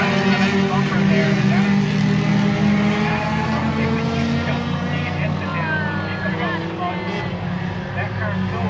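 Pure stock cars racing around the Monadnock Speedway oval, a steady loud drone of engines under continuous race commentary.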